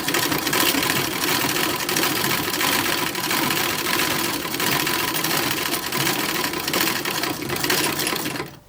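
An antique 1907 sewing machine runs steadily and close by, its fast mechanical whir and needle clatter continuous and loud for the whole stretch before cutting off at the very end.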